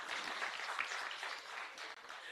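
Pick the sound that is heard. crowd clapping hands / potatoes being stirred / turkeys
crowd clapping hands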